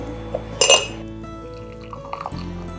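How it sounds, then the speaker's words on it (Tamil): A brief bright clink of glass, followed by a soft trickle of strained herbal tea being poured, then quiet kitchen sounds. "இதெல்லாம் சேர்த்து நல்லா கொதிக்க வச்சுட்டு இந்த டீயை நம்ம வடிகட்டிடணும்"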